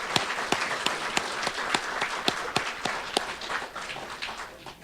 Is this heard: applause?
yes